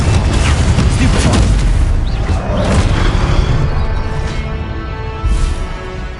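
Confringo blasting spell exploding in Hogwarts Legacy combat: repeated heavy booms and crackling impacts in quick succession over a loud, busy battle mix, with speech mixed in.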